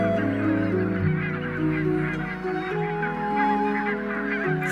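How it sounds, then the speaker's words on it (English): Barnacle geese on estuary mud banks honk in a dense, continuous chorus, many overlapping calls blending into a steady, moderately distant clamor. "the barnacle geese are also busy"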